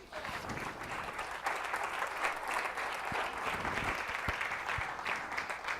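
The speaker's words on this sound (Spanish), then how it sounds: "denle un aplauso a Jesús" Sustained applause from a church congregation during a service, a dense steady patter of many hands clapping for several seconds with no break.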